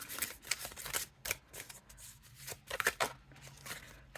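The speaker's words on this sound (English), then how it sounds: "Shuffle's nice hand over hand." Crisp, rapid bursts of oracle cards being shuffled hand over hand, close and quiet, repeating in short irregular riffles.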